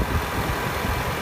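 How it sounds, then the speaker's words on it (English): A 2015 Range Rover Supercharged engine runs at a steady idle, a low even hum close by. "Very powerful engine."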